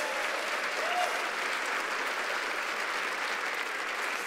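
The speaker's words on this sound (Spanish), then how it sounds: "Dele un aplauso fuerte al Rey de Reyes," A church congregation applauds loudly during a Spanish-language sermon, with dense, sustained clapping from a large crowd that holds steady throughout and has no spoken words over it.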